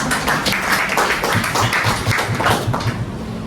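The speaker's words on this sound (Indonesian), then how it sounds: "Tepuk tangan untuk Natasha dan Asila." Students in a classroom clap for two classmates, a loud, lively patter of hands that stays fairly even before easing off at the end.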